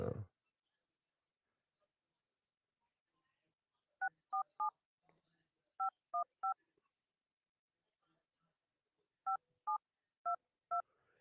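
Telephone keypad dialing tones, ten short beeps in quick groups of three, three and four with pauses between, clear but moderately quiet, after a brief noise at the start.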